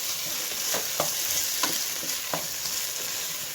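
Beef and potatoes with tomato and parsley sizzle in a pan under a constant frying hiss, while a utensil stirs them in a few soft, evenly spaced scrapes nearby.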